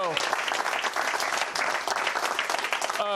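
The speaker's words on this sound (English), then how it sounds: "So you guys could clap a little" A live show audience claps for golfer Adam Hadwin in a short, dense burst of applause, moderately loud, with a voice starting up at the very end.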